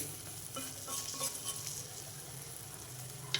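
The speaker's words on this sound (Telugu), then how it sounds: "మనం వేసుకున్న పౌడర్ కూడా చక్కగా వేగిపోయింది ఇంకొక టూ మినిట్స్ ఉంచుదామండి" A brinjal curry with spice powder fries in an open pan, a soft steady sizzle with faint stirring scrapes, quiet and continuous throughout, with one small knock at the very end and no talking.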